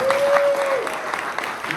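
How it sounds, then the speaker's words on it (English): A crowd at a tiki-themed event, Tiki By The Sea 2021, claps for a performer in a burst of applause that stays steady and fairly close, with a brief tone ringing through its start. "Let's have a round of applause for Don the Beach"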